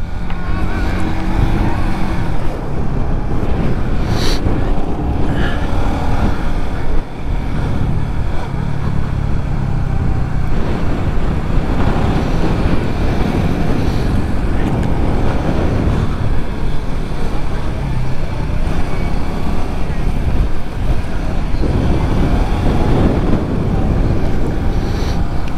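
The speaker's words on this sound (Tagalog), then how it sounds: "First test ride natin ng Honda Winner X." Sustained loud engine roar from a Honda Winner X motorcycle on a test ride around the Carmona race track, with heavy wind rush running steadily for the whole stretch and no talking.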